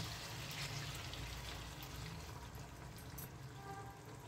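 Turmeric stirred into water is poured into a simmering Bengali-style hilsa curry, making a soft continuous splashing and trickling, faint and close, with no talking.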